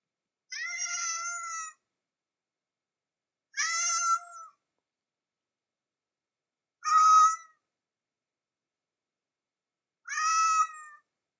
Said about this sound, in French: Il miaule.